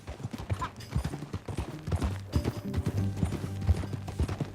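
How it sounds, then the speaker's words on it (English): Horse hooves clip-clop at a steady walking rhythm in the Red Dead Redemption 2 video game, close and clear, with faint low music or ambience underneath and no talk over it. "That new horse?"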